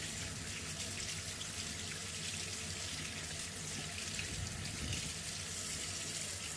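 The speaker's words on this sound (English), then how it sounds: "We'll let the warm water come" Warm tap water runs steadily from a faucet over a wristwatch being rinsed in a sink, a constant close hiss of flowing water with no talking.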